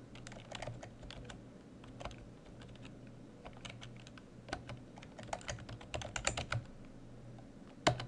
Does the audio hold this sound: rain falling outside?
no